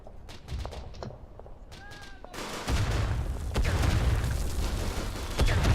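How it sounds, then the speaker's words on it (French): Machine gun fire in the WWI shooter Verdun, Argonne map, a sustained rattling burst building in the second half amid battle noise, with players talking over it. "Il y a une MG qui nous tire dessus."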